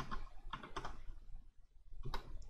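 Quiet typing on a computer keyboard, a few clustered key clicks near the start, a brief pause, then another short burst of taps, close but faint with no talk.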